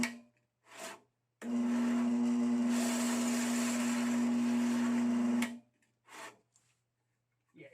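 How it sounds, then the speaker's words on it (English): A Craftsman 10 inch three-wheel bandsaw cutting metal, running with a steady, harsh scraping grind and a strong hum that lasts about four seconds, with brief quieter bursts before and after. "you can hear this scraping."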